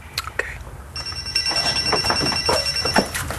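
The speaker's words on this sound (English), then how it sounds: "Oh, someone's phone is ringing." A telephone rings with a steady electronic trill held through most of the clip, moderately loud, while people talk over it and small clattering sounds come and go.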